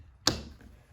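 A cap snaps onto a Schlage Camelot aged bronze entry door handleset with one sharp, close click, followed by a faint trailing tap.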